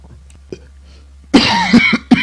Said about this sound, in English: Caught in a cough.